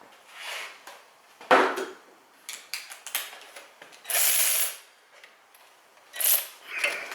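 Caliper bolts on a Mercedes E550 cabriolet's front brakes are run in with a tool, giving close ratcheting clicks and bursts of mechanical whirring in short irregular spurts, with no speech.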